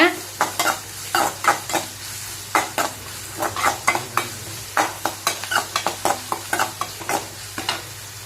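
Onions with a pinch of salt sautéing in a pan for a lentil dal, brisk repeated scraping stirs over a low sizzle and a steady hum, no talking.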